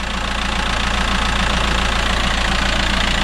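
A VW/Audi petrol engine held at about 3000 rpm during an N75 boost control valve test, giving a steady, loud, continuous drone with a rough knocking texture and no talk over it.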